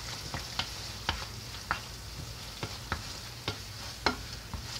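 An egg fries with poke salad in a pan, a steady soft sizzle under repeated sharp clicks and scrapes of a utensil stirring against the pan, close and fairly loud, with no talking.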